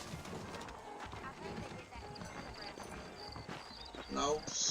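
Horse hooves clop in a steady walking rhythm in the video game Red Dead Redemption, under someone talking, with a brief bright chime near the end.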